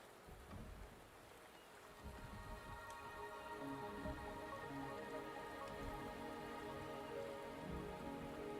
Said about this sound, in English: The rain is subsiding.